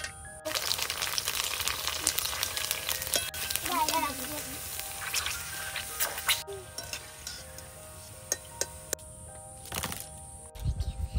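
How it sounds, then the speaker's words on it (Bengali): Fuchka (pani puri) shells frying one by one in hot oil, giving a soft continuous sizzle with faint clinks and stirring, under background music tones and household noise. "ফুচকাগুলো ভেজে নেব।"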